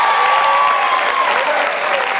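Loud, sustained applause and cheering from a comedy club audience at a live stand-up show in Detroit, a dense continuous roar of clapping with crowd noise throughout.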